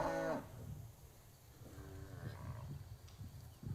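Cattle in a large dairy herd moo as they pass through a farm gate, one loud close bellow opening, then softer calls from further off over steady shuffling and ambient farm noise.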